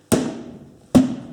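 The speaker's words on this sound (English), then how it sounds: "that was the sound of the bead breaking" A tyre bead breaks loose from the rim during a repair, heard as two sharp, loud cracking thuds about a second apart, each ringing off briefly.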